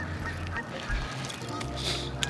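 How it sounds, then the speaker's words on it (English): Geese honking as they fly overhead outdoors, a few loud, nasal calls close above over a low steady background. "I don't like these geese flying over my head."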